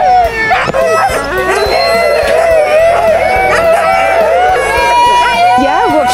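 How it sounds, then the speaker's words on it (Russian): A pack of malamute and husky sled dogs at a winter eco-park barking, yipping and howling together in a loud, continuous chorus of overlapping wails and yelps, with people talking in the background. "Тут маламуты и хаски."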